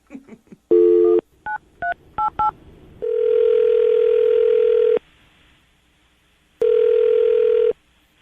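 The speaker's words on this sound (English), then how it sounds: "I'm going to dial the phone number right now, see if we can get her on the phone." A quick series of touch-tone beeps as a number is dialed, followed by long steady dial-tone-like tones with a pause between them, clear and close.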